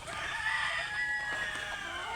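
A black hen makes faint, soft clucking and calling sounds for a couple of seconds, with no one speaking.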